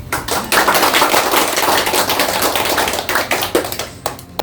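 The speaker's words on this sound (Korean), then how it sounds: "큰 박수로 맞이해 주십시오" An audience at a book talk applauds steadily, dense clapping at full strength throughout, then thinning slightly near the end.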